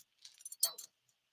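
A bunch of keys jangles briefly and quietly, a short bright metallic rattle lasting under a second.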